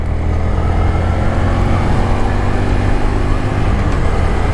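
A motorcycle engine roars close up with heavy wind rush, a steady loud drone as the bike accelerates up through the gears.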